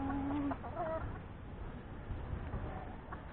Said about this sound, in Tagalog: Daming chicken.